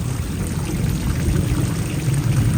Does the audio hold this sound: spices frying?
no